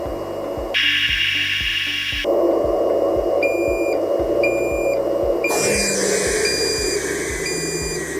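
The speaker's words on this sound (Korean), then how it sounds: "적색 LED 지등 및 경고음이 울리며" A 3M Versaflo TR-300+ powered air-purifying respirator sounds its low-flow warning alarm, repeated high electronic beeps over the steady whir of the blower motor.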